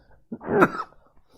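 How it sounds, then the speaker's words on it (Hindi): A single short, close cough with a throaty rasp from a man with allergies, otherwise quiet. "खांसी हो रही है मुझे, एलर्जी बहुत है।"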